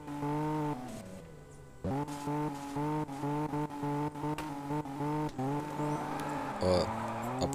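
A Porsche and an Audi street race in Car Parking Multiplayer, with engines revving in repeated rising and falling bursts, gear changes and a brief tire squeal near the end, while someone talks over it.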